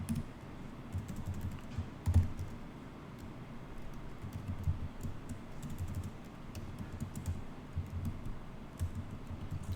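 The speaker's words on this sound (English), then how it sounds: "Having some hard time typing here." Steady typing on a computer keyboard, a quick irregular patter of light clicks continuing throughout at close range.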